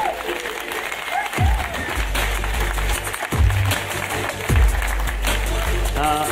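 Loud audience applause and cheering greet a podcast award winner at a Slovak podcast awards ceremony, with music or voices swelling under the dense clapping in repeated surges.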